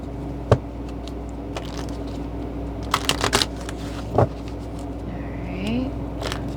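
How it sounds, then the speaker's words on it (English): Tarot cards are shuffled by hand, giving soft riffling, rustling and a few sharp card snaps over a steady background hum, close and moderately quiet, with no talk. "One more shuffle, knock, and pull from the top."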